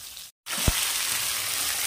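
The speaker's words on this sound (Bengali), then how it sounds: "এবার ধীরে ধীরে সবজিগুলো দিয়ে দিলাম।" Mixed vegetables hitting hot oil in a pan already tempered with black cumin and green chili: a steady, loud broadband sizzle after a brief silent gap, with one sharp knock as they drop in.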